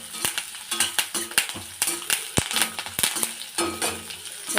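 Frying onions and curry leaves for potato podimas are stirred in a pan, producing a quick run of sharp spatula scrapes and knocks against the metal over a low sizzle, close and rhythmic with no speech.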